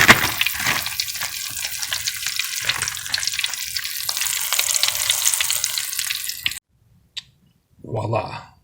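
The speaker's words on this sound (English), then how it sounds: "put the chunks of trout in there, and then dip it in the flour, cornmeal, and pepper mix, and then fry it up" Trout chunks dipped in egg and a flour, cornmeal and pepper mix frying in hot oil, a loud, dense sizzle that runs continuously and then cuts off abruptly, followed by a brief tap and a short rustle.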